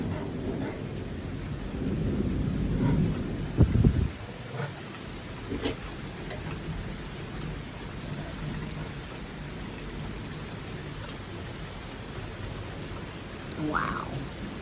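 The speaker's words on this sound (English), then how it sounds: "To me, that's like a summer thunderstorm." A March thunderstorm in Wilmington: steady rain patters on surfaces throughout, with a loud crack of thunder near the start and fainter rumbles later, no talk over it.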